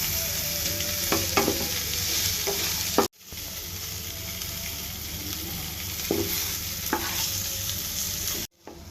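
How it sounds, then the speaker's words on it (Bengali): Fish fries with onion, chilli and moringa leaves, a loud, close, continuous sizzle broken by brief cuts and punctuated by spatula knocks and scrapes as the mix is stirred. "এবার এগুলো মাছের সাথে মিক্স করে দিব"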